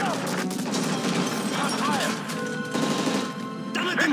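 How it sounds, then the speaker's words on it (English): Gunfire from hijackers aboard a plane in Call of Duty: Modern Warfare 3, a dense stretch of loud, continuous shots and impacts mixed with game effects and shouting voices throughout. "That's gunfire!"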